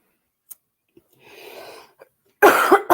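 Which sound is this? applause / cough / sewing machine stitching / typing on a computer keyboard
cough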